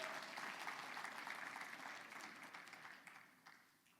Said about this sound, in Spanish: Dele palmas a Él